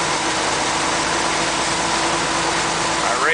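A Bucyrus Erie 10B dragshovel's engine runs as the hoist lever raises the bucket, a steady, loud mechanical drone with no clear change in pitch or load.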